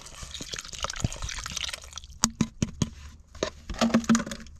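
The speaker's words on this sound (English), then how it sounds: "In goes the water." Water pours and splashes into a pot, breaking into a series of distinct drips and glugs near the end.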